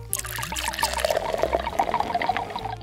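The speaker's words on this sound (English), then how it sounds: "you're gonna pour some baby oil in there" Baby oil poured into a plastic craft bottle already holding water, a continuous glugging, bubbling trickle with close small splashes and gurgles for a few seconds.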